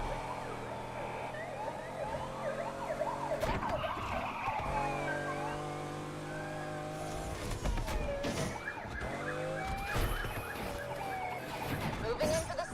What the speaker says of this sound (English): Why does that sound like a sick tornado siren?